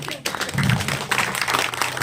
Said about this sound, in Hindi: एक बार ताली बजाएंगे।